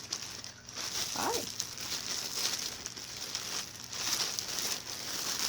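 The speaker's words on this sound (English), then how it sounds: "you're gonna watch as I struggle to get this back into the plastic bag" A knitted piece is pushed and squeezed into a plastic bag, giving close, irregular crinkling and rustling that comes in bursts over a steady background hiss.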